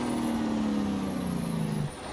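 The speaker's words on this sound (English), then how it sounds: "I don't like that the Jake sounds like this." A heavy truck's Jake brake engine braking in American Truck Simulator, with the biggest available engine: a steady loud low drone that holds for about two seconds, then drops off abruptly.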